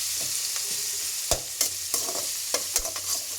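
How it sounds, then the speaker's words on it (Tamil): Onions sautéing in a pan for lemon rice: a steady sizzle with a spatula scraping and clacking against the pan every few beats, close and fairly loud, with no talking. "வெங்காயம் வதங்கினா அவ்வளோதான், போதும்."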